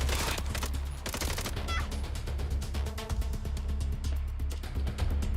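Rapid enemy gunfire in Red Dead Redemption 2 crackles in dense, repeated bursts over a steady low game-score drone, loud and continuous throughout.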